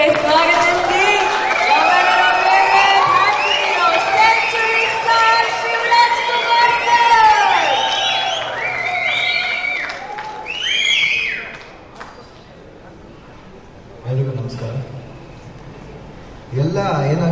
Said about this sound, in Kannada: ಒಂದು ದೊಡ್ಡ ಚಪ್ಪಾಳೆಯೊಂದಿಗೆ ಸ್ವಾಗತ